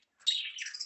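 Lovebirds at a breeding farm give a single short, high chirping call, faint and close, alone against near silence.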